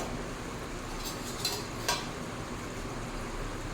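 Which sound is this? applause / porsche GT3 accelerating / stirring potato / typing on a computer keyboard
stirring potato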